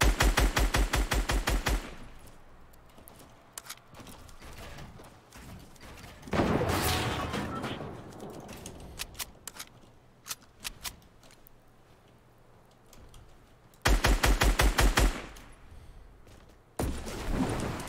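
Rapid bursts of automatic gunfire in the video game Fortnite, loud and close, coming in several volleys separated by quieter stretches of single shots and game noise.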